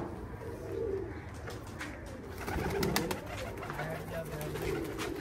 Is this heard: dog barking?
no